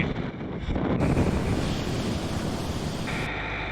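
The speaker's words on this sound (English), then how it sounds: "We race back to the boat as the unpredictable Cape Horn winds begin to rage." Strong gusts of Cape Horn wind roar across the microphone at sea off Patagonia, a dense, buffeting rush that swells after the first second and holds loud to the end, with surf-like wash beneath.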